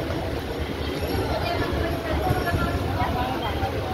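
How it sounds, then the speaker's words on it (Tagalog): Riding an MRT train in Manila: a dense, continuous rumble of the carriage in motion fills the whole stretch, with faint voices and background noise blended into the steady rolling din. "Sakay kami guys ng MRT."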